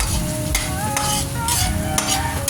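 Onion and garlic sautéing in a pan, a loud continuous sizzle with several brisk stirring scrapes over it.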